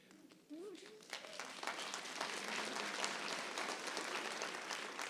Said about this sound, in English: I ask you to hold your applause till the end